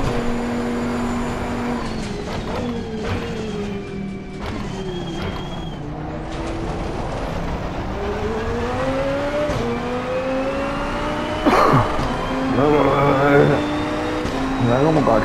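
A GT race car engine in Assetto Corsa Competizione drones and revs continuously, its pitch rising and falling through gear changes, with a sharp burst near the end. A voice talks over the engine throughout.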